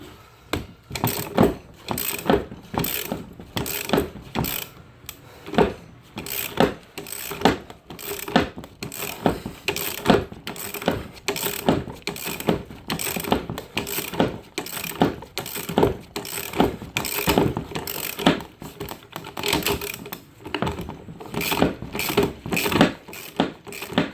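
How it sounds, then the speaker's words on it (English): A ratchet wrench clicks in quick, rhythmic bursts while turning a bolt on the power steering pump of a 2002–2007 Dodge Ram 1500. The close, sharp ratcheting repeats steadily with brief pauses and no talking. "Just making sure the wrench doesn't fall off."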